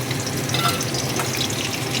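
Crushed garlic, ginger and green chili sizzle in hot oil in a wok, a steady, close hiss of frying with faint crackles and no talking.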